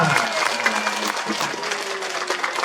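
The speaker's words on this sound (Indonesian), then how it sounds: "Tepuk tangan lagi ulang Bapak Ibu, semangat semua." Audience clapping at a road inauguration event with a governor's speech, a steady wash of hands sustained throughout, with a tonal hum and faint voices mixed underneath.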